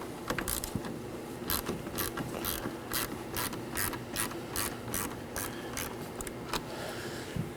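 A ratchet loosens the 10mm battery terminal nut on a Chevrolet Equinox, producing close, rapid metallic clicking in repeated bursts of ratcheting strokes, with faint background hum and no speech.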